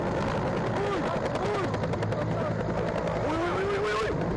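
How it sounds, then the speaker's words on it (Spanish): A helicopter spins out of control low over the rooftops of houses, its loud rotor and engine droning steadily through the whole stretch while voices talk over it. "El helicóptero luchaba sobre los tejados de las casas por no terminar estampillado en el"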